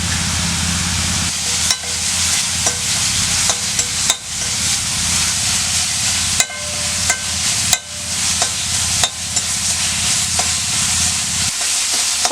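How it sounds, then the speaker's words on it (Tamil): Sliced onions sauté in hot oil with salt and turmeric in a pan for a gravy, giving a steady loud sizzle broken by frequent scraping stirs of a spoon, close up and with no voices. "நான் வெங்காயத்தை போட்டு நல்லா செவக்க வதக்கிடலாம்"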